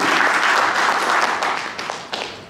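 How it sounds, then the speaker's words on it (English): An audience at a vloggers' meetup in Mumbai gives a round of applause to welcome someone on stage, a dense, steady wash of many hands clapping that fades slightly toward the end. "let's welcome him on stage with a round of applause"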